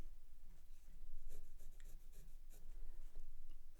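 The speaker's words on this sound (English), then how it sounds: "let's get this graphite pencil." Graphite pencil scratching across sketchbook paper in short, close strokes, a steady dry rasp with brief pauses and no voices.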